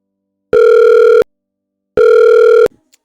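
Two bursts of an electronic telephone ring, each about three-quarters of a second, separated by a pause, loud and close with no talking.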